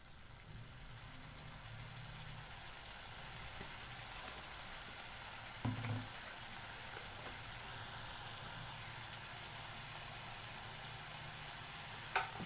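Egg masala curry with turmeric and chili powder simmering in a pan, giving a steady, moderately loud sizzle and frying hiss throughout, with a couple of brief stirring knocks and no talking.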